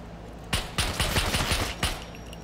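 Gunfire rips through a firefight in the survival game Scum, a rapid burst of loud, close shots in quick succession with a short pause and a final shot, with no talking over it.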